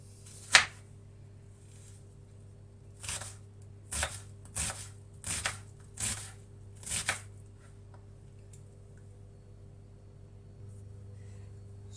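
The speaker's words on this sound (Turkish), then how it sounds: "iki orta boy soğan ince ince doğruyoruz" A knife chops onions on a cutting board in a handful of sharp, separate strikes, one early, then several in quick succession, over a low steady hum.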